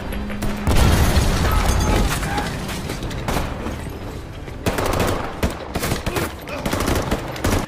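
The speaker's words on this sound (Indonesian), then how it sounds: "Tembak-menembak pun akhirnya tidak terelakkan lagi." Rapid bursts of gunfire crackle and boom loudly in an armed robbery shootout, with dense overlapping shots and blasts in a chaotic exchange.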